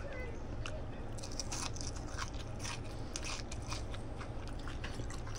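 Crunchy air-fried Sonic-style tater tots being bitten and chewed close up, a steady run of crisp crackling crunches with no talking over them.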